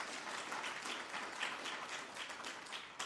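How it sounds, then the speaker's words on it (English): A conference audience applauds a congresswoman at an interfaith gathering, a steady, dense wash of clapping that holds evenly throughout without any voices. "please give her a round of applause."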